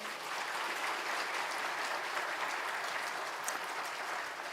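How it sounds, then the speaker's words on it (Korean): A church congregation at a New Year's Eve service gives steady, dense applause of encouragement, heard from within the room and fairly soft, holding evenly for several seconds without talk. "우리 다 같이 한번 인사를 할 때 격려의 박수를 해주시기 바랍니다"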